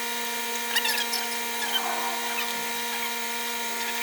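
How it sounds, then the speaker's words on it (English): Screws being driven back into a Honda Grom engine with a power driver, a steady whirring drone running through the whole stretch with small bursts of louder buzzing, close up and alone. "I'm going to put the screws right back in where I took them out."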